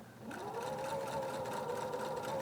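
A sewing machine runs steadily for a couple of seconds, stitching fabric pieces for quilt trapezoids, with a close, even mechanical whir and no talk.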